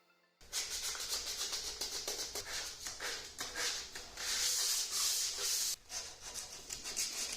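Close, raspy strokes of sandpaper rubbing on wood, repeated in an uneven back-and-forth rhythm with a brief pause near the end.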